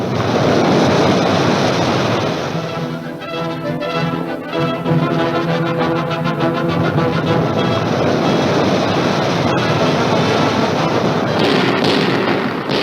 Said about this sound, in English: Depth charges are dropped in a deadly pattern.